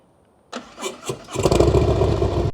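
A Dodge Challenger with a TAB Performance Redline exhaust cranks with a few compression pulses, then catches and settles into a loud, deep rumble at close range.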